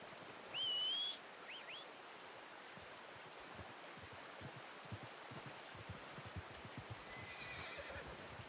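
A horse in the Red Dead Redemption 2 video game gives one loud, clear whinny near the start, followed by steady hoof clip-clop and a soft ambient wash of outdoor water sounds.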